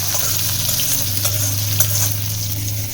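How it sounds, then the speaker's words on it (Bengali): Jackfruit and potato pieces frying in a pan with salt and turmeric, a steady loud sizzle with an oily hiss and occasional stirring scrapes, close up, with no talk. "নুন হলুদ দিয়ে ভালো করে এঁচড় আর আলুটাকে ভাজবো"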